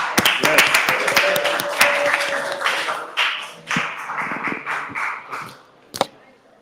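Applause and scattered clapping from an audience at a tech demo night, dense and close at first, then thinning to individual claps before one sharp final clap, with voices mixed in.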